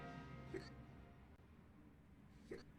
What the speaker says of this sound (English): Sorry for the hiccups.